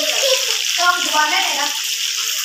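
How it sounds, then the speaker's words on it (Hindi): Fish fries in hot oil with a steady, close, hissing sizzle while someone talks over it. "ये देखिए हो रही है फिश, हो रही है फ्राई।"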